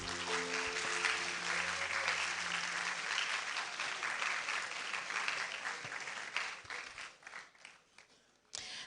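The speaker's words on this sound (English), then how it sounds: "So the final applause as she takes her seat." Audience applause at a university inaugural lecture as the lecturer takes her seat, a dense, sustained clapping that fills the hall from the start and thins out toward the end, with faint background tones early on.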